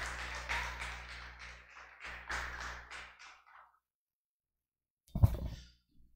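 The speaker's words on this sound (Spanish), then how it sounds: "Es para Él ese aplauso" Worshippers at a Holy Saturday church service burst into applause, a dense mid-loud clapping that fills the first few seconds, trails off into silence, then a short sharp knock or clap near the end.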